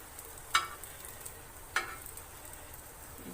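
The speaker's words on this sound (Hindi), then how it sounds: "शैलो फ्राई करने होते हैं।" Chicken shami kababs shallow fry in oil with a quiet, steady sizzle, broken by two sharp, brief crackles or utensil touches, and no talk.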